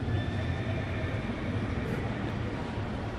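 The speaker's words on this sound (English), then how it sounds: "Carlos Lee has a walk-up sound effect of a neighing horse." A neighing horse walk-up sound effect plays over a baseball stadium's public address system, a whinny heard through the steady, dense roar of the ballpark crowd for about three seconds.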